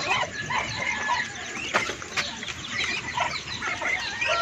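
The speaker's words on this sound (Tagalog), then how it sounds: "dito sa mga sisiw nating manok" Chickens and chicks on a farm cluck and peep in a busy, continuous chorus close by, with occasional wing flaps and a sharp call, and no one speaking.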